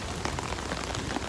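Steady heavy rain falling in the garden of the former Prince Asaka Palace in Tokyo, a dense, even hiss of drops hitting surfaces with occasional louder patters, with no voices.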